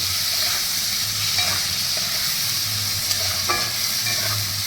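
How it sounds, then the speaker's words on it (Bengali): Pineapple stir-fried in oil for a hilsa fish curry, with a loud, constant sizzle close by and occasional scraping stir strokes. "আনারসটা দিয়ে আবার কষাতে থাকবো"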